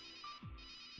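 A phone rings during a call in the video game Runaway, a brief electronic ring tone heard alone and clearly, lasting about a second.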